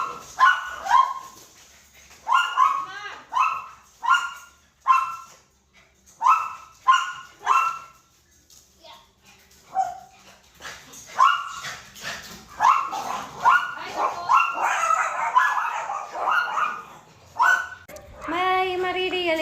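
Dogs barking in repeated sharp bursts, mixed with whimpers and yips, fairly close and at moderate volume, ending in a rising whine; a voice speaks briefly among the barks.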